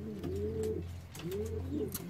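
Domestic pigeons in a breeder's loft, a white hen with an old male pigeon from Toledo, give two low, rolling coos close by against a steady background hum, with no talking.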